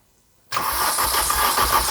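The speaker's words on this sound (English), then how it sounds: "Go on, Ali, turn it over." An old, rare BMW M car engine turns over and catches after half a second of silence, then runs loudly and steadily close by with a rough, pulsing idle.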